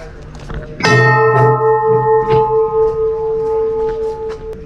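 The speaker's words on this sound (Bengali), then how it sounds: "আর এই হচ্ছে মেন মন্দির, এই ঘন্টাটা বাজবে।" The main temple bell at Pashupati Temple in Nepal is struck once, loud and close, its metallic ring sustaining and slowly pulsing as it decays over several seconds.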